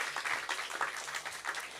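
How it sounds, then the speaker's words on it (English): Audience applause from a conference crowd at a sovereign-living event, a steady wash of many hands clapping, moderately loud and continuous with no talking over it. "So big applause."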